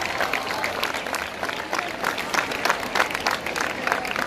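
An audience claps at the opening of the Waterkloof arch, producing steady, dense applause from many hands that stays fairly loud and continuous throughout, with a faint crowd murmur beneath.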